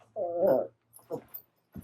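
A Jack Russell terrier puppy whimpers indoors, one drawn-out whine followed by a couple of shorter soft whimpers, close and clear with no talk over it.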